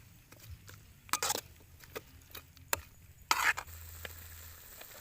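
Fried noodles with beef and mushroom stirred in a pan, with soft sizzling under scattered scraping and clacking of utensils, a few sharper clatters standing out, close and fairly quiet with no talk.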